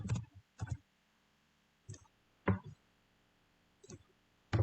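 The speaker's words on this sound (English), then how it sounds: "You want to type in their email address." Computer keyboard keys tapped out in short clustered bursts while an email address is entered, with brief quiet gaps between groups of close, soft clicks.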